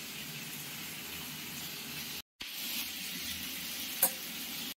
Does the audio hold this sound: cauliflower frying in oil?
yes